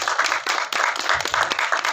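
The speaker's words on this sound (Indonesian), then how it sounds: "Boleh berikan tepuk tangan dong" Steady audience applause during a talk-show segment with members of a band, dense clapping that carries loud and unbroken across the full stretch with no voices over it.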